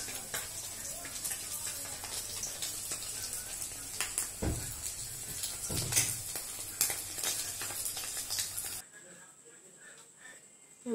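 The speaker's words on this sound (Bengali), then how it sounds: "এখনো মাছের মাথাটা ভাজতে বাকি আছে।" A silver carp fish head fries in oil, a soft crackling sizzle with occasional louder pops and spatters, fairly quiet and close, before the sound drops away near the end.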